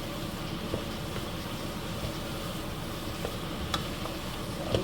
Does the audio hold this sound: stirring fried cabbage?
yes